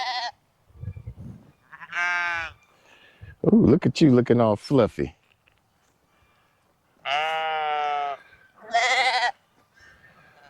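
Several sheep bleat loudly nearby on a farm, long wavering cries in between, with a person speaking softly to the animals among the calls.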